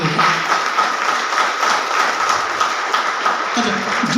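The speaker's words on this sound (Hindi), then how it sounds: "एक जोरदार ताली इन लोगों को।" A seminar audience breaks into dense, sustained applause, many hands clapping together at a steady, loud level throughout.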